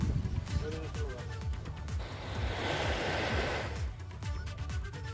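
Fast-flowing flood water of the swollen Baneli river rushes in a steady broad roar, with a reporter talking over it throughout.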